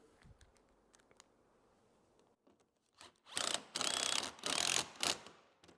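A drill drives screws into a clamped pocket hole joint in wood with a Kreg 720 Pro jig, after some quiet handling clicks, giving several loud close whirring bursts separated by short pauses.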